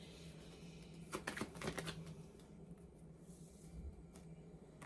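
A tarot card is drawn from a deck during a reading, heard as a brief cluster of soft papery slides and flicks near the middle, close by and fairly quiet over a low room hum.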